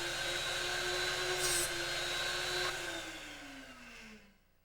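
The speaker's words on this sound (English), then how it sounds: "Listen carefully to the sound created as the small bit briefly contacts the wheel." A Drill Doctor 250 sharpener runs with a steady motor hum and whine as a small drill bit briefly touches the sharpening wheel, giving a short grinding burst before the motor winds down and fades out.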